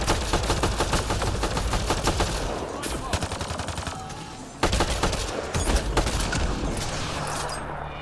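Rapid automatic gunfire rattles in the video game Mass Effect: Andromeda, loud and close, with sustained bursts broken by a couple of short pauses and no talking.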